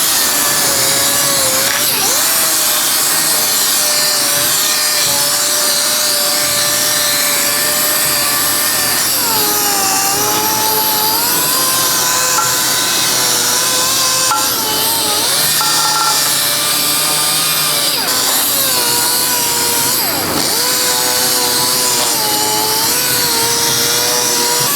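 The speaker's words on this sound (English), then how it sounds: "I'm gonna go ahead and scuff and sand the rest of the wheel and all the pockets" Continuous scuffing and sanding of a car wheel with 320 grit sandpaper during curb rash repair, a loud, steady abrasive rasp with shifting whining tones running unbroken throughout.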